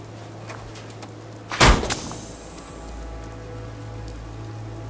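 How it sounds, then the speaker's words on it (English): Steady rain hisses in the video game Fallout 4 under a low hum, broken once midway by a loud, brief door-like thud before the soft patter continues. "Oh, it's raining."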